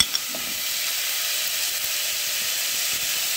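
Carrot and papaya sizzle in a pot of chicken soup base, giving a continuous close hiss. A soft knock sounds right at the start.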